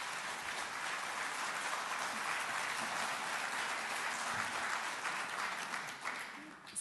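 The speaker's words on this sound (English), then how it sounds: "a big round of applause" An audience at an on-stage conversation event claps in sustained, even applause throughout, a dense hiss of many hands at a moderate distance, fading slightly at the end.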